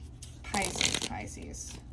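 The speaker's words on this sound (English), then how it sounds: "when I'm trying to shuffle it and it's not a smooth flow" Tarot cards shuffle in a brief riffling burst, fairly close and crisp, with a voice talking faintly underneath.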